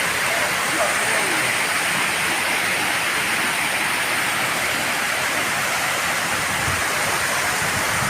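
At Ghanteswari temple in Sambalpur, river water flows with a strong, steady, close roar like a waterfall, filling the whole span while a voice speaks briefly over it.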